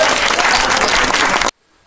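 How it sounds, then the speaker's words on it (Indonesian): A classroom group applauds loudly and steadily after a correct quiz answer in a biology lesson, then the clapping stops abruptly. "Kasih tepuk tangan lagi."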